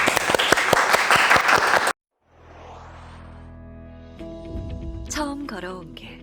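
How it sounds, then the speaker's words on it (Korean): Young people at a church youth service applaud to welcome a missionary, a brief burst of crisp close clapping that cuts off abruptly into music and a voice. "우리 친구들 선교사님을 박수로 맞이해 볼까요?"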